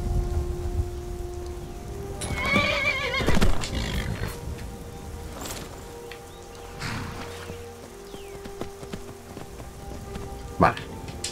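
A horse whinnies loudly with a rising, shaky neigh in the video game Skyrim, amid steady rain and a few scattered clops and thumps; another brief sharp call near the end.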